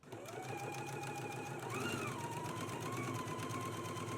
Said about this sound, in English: So I'm actually gonna stitch this on and then I'll come back and we'll move on to the next step.